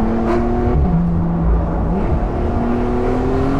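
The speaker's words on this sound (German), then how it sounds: "Kurz Vollgas." A Porsche 911 Carrera GTS of the 991.2 generation, on wide tyres, accelerates at full throttle, its loud engine note rising through the revs with a gear change midway, heard close from inside the car.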